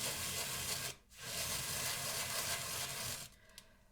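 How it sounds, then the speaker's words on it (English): Salt rubbed hard by hand to transfer colour into it for a craft project, a close, steady gritty scraping that pauses briefly twice, alone without talk. "The more you rub it and the harder you press on, the darker the salt will turn."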